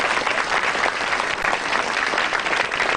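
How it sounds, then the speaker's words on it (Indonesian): A studio audience at a televised stand-up comedy show breaks into dense, sustained applause, loud and even, with no talking over it. "Tepuk tangan buat Maison."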